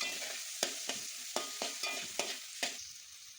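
Chopped tomato and garlic cook in a pan for a fish curry, giving a soft sizzle. About seven sharp spatula scrapes and taps land in an irregular rhythm over the sizzle, close and fairly quiet.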